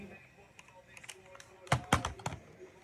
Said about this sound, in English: I'm just going to switch it over to the cassette, tape cassette.